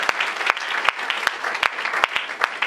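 Church congregation clapping together during worship, steady rhythmic handclaps about every half second over a dense wash of scattered applause, loud and full in the room.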